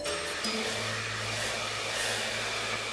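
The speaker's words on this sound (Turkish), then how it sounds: "Çekilir mi bu kadar gürültü bir saç kurutmak için?" A hair dryer runs steadily indoors in a home, a constant loud whooshing blow with a low motor hum, unbroken and alone for the full stretch.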